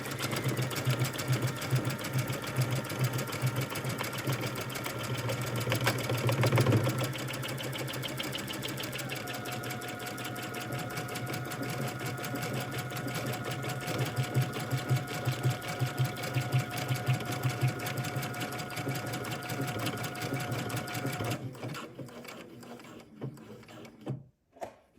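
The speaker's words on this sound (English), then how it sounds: "Then you will set your machine up for a buttonhole." A sewing machine stitches a buttonhole on a belt, running steadily with a fast, even mechanical whir and needle chatter for over twenty seconds, briefly changing pitch midway before slowing and stopping near the end.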